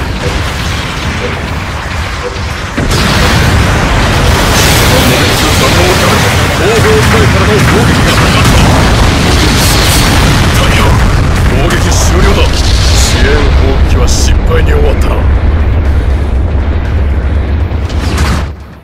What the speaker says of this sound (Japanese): 支援砲撃が来るぞ危険エリアから退治しろ